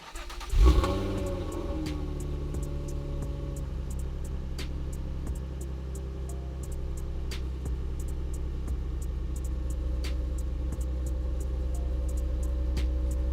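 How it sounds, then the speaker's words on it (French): A Nissan 350Z starts up and pulls away. A sharp engine catch and rev comes first, then a steady, fairly loud engine drone continues with faint clicks throughout. "qu'on monte dans la voiture et qu'on aille faire un petit tour"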